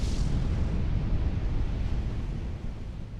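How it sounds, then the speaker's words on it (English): The Krakatoa volcano erupts in a cataclysmic explosion, heard as a deep, continuous roaring rumble that stays loud and heavy throughout, with no voices. "the first of 4 truly cataclysmic explosions occurred on Krakatoa. The volcano erupted"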